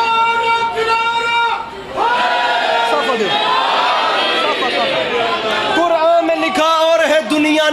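Crowd at a majlis in Pindi Bhattian raising chants and cheers, a loud dense mass of many voices that swells and carries on for several seconds, with a lone speaker's voice cutting through at times.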